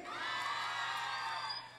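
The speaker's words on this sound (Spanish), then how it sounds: "¡Aplauso para el baby!" A crowd at a contest on Costa Azul cheers and shouts with high whoops and children's yells, a continuous faint roar of voices lasting under two seconds before fading.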